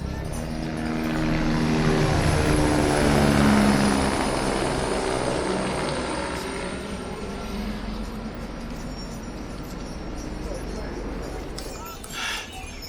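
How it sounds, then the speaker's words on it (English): Helicopter flying into a Himalayan valley near Kedarnath, heard as a broad rotor and engine roar that swells loudest early then slowly fades as it moves away, steady and with no speech over it. "So you can see that helicopter going into the valley."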